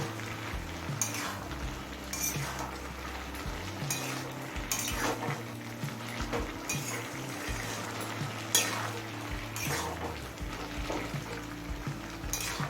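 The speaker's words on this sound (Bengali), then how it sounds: "ঢাকা খুলে শাকটা একটু নাড়াচাড়া করে নিলাম" Pumpkin greens cooking in a pan, stirred with a utensil that scrapes and clinks against the metal in irregular strokes over a steady soft sizzle.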